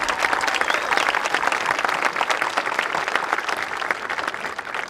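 An audience at a 2022 commencement ceremony applauds after a chamber singing group's performance, a dense, even wash of many hands clapping continuously at a steady level.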